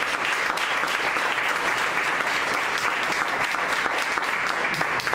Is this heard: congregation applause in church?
yes